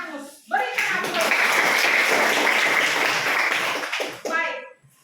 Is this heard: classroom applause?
yes